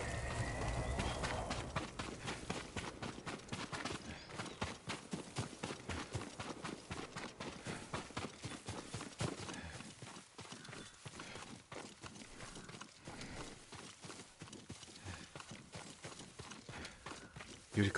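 A horse gallops in the video game Ghost of Tsushima. The hoofbeats come as fast, rhythmic clip-clops for about eighteen seconds, first dense and steady, then looser and more spaced. They sound fairly faint and no one talks over them.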